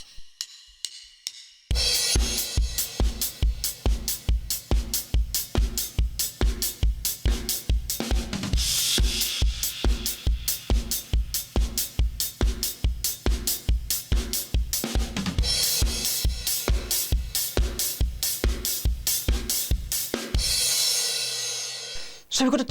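A drum kit plays the verse groove of the Foo Fighters song Love Dies Young: a steady, loud pattern of evenly spaced hits that runs for about twenty seconds after a short quiet start, with a crash near the end.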